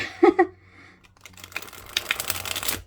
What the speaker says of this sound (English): love this deck, and it shuffles very nicely